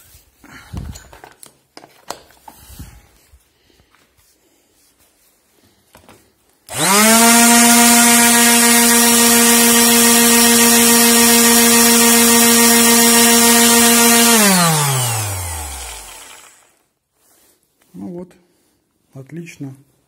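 A modified orbital sander fitted with an added brake runs loud and steady for about eight seconds, then spins down smoothly; faint talk comes before and after it.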